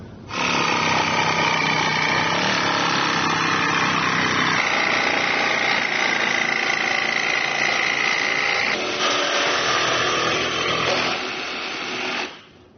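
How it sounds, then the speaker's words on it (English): A cordless jigsaw fitted with a 24-tooth fine metal-cutting blade saws through a trailer roof, a loud continuous buzzing rasp that shifts pitch as the cut goes corner to corner, then stops. "I've got a cordless jigsaw here with a 24 tooth fine metal cutting bit, and I'm just going to cut from corner to corner."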